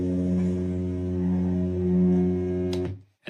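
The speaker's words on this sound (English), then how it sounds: "This is the projector motor hum." Steady electrical hum from a film projector motor, one of the source sounds behind the lightsaber effect: rich stacked low harmonics drone evenly for about three seconds, then a brief click and the tone cuts out abruptly.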